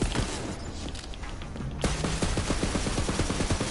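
Rapid gunfire crackles in Borderlands 3, a dense stream of close, loud shots that turns into a fast, evenly spaced burst of sharp reports partway through.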